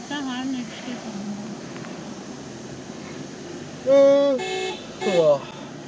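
Car horn honking on a winding mountain road in the Kodaikanal hill station area: two loud honks, a longer blast then a shorter one, over steady road noise, with some talk earlier.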